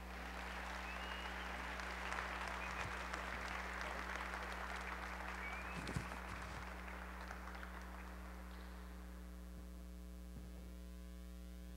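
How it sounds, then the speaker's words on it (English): Audience applause for two award winners at a neighborhood community awards ceremony, a steady wash of clapping that fades out after several seconds over a constant low electrical hum. "Let's give them a big round of applause."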